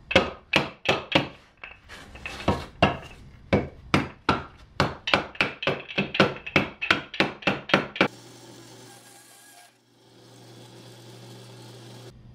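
A hand-cut wooden dowel is tapped into place with sharp, regular knocks for about eight seconds, each hit crisp and close, followed by a quiet steady hum.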